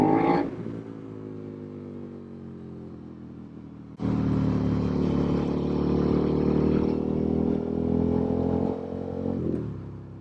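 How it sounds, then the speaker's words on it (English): A car passes at close range with a rising engine tone that swells to a loud, steady roar. The noise of a motorcycle and wind runs throughout. "Oh, damn, that's a nice Corvette."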